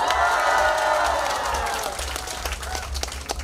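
A crowd cheers and shouts at a live pumba folk performance, a loud swelling roar of voices that fades into scattered clapping and calls.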